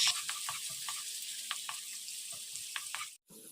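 Garlic and onion sauté in hot oil in a pan, a faint steady sizzle with light scattered clicks of stirring, close and alone, cut by a brief silence near the end.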